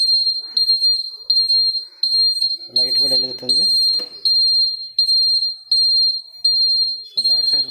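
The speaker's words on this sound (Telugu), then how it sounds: "చూస్తున్నారుగా బీప్ సౌండ్ వస్తుంది" A newly fitted indicator buzzer on a scooter beeps loudly and close up in a fast, regular series of short pulses while the side indicators are on, with someone talking over it partway through.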